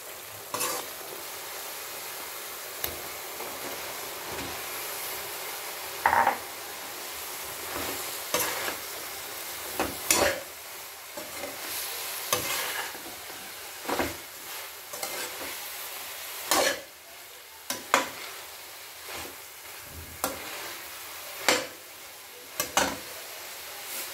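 Broccoli sabzi cooking in a pan, a continuous close sizzle and frying hiss broken by repeated scraping stirs of a spatula every second or two.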